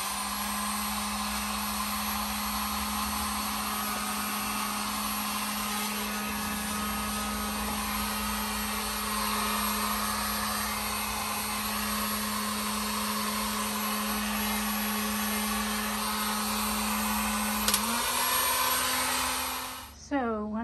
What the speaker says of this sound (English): I bought a heat gun to assist with this.